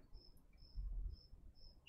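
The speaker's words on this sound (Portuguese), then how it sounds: "O microfone adora grilo." Four regular high-pitched cricket chirps, evenly spaced and fairly faint, over a low rumbling background with no voices.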